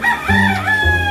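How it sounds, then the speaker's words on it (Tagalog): A loud rooster crow, drawn-out and close, with a second crow starting near the end. "Ingay ng manok. Paparinig sa inyo, ha?"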